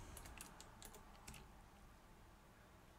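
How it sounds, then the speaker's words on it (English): Computer keyboard typing while entering script code in the Arma 3 editor, a quick run of soft, faint key clicks in the first second and a half, then a quiet pause. "Then we're going to type this"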